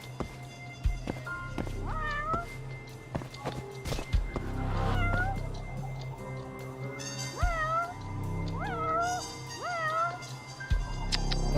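A cat in the video game Judgment meows repeatedly with rising and falling cries, several distinct mews spread across the stretch over game music and effects.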